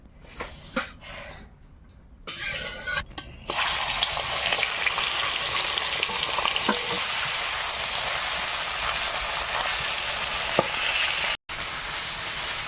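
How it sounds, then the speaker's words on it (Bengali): Fish sizzles steadily in hot oil in a wok, seasoned with turmeric and salt; a quieter start gives way to a loud, continuous crackling fry with no talking. "মাছটা এর পাশে ভেজে নিচ্ছি আর ওদিকে কচুমুখি আর আলুটা লবণ হলুদ দিয়ে ভেজে নিচ্ছি আলাদা করে"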